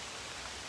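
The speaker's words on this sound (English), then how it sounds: "It's just a little rain." Light rain falling steadily, a soft broadband hiss with no distinct drops, even and continuous throughout the short stretch.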